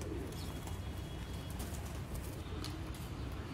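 Sialkoti pigeons, red-marked Sheikh-type birds held close, giving low murmuring coos under a dense, noisy rustling background, with no speech.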